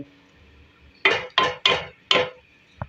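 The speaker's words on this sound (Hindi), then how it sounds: "हम एक बार चलाएंगे चमची की मदद से और उसको गलने के लिए छोड़ देंगे।" A metal spoon scrapes and clanks inside a pot of beef keema as it is stirred, giving four quick, loud, close strokes in an uneven rhythm, then a short knock after a quiet pause.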